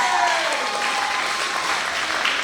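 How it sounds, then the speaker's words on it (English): A crowd at a summer camp's final ceremony applauds for a staff member, dense and steady clapping filling the whole stretch at close range, with a thin whistle-like tone riding over it. "So let's give a huge round of applause for Mrs."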